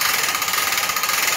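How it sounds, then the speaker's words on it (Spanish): Industrias Jaber motorcycle elevator lift platform rising, its motor giving a steady, close mechanical hum with a faint rhythmic vibration throughout. "cómo subimos la plataforma."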